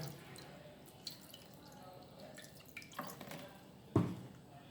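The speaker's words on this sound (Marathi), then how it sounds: "हे मी बर्फाचं पाणी ओतलं" Ice water is poured over paneer and drips into a bowl, with a few soft splashes and one louder splash near the end, close by and fairly quiet.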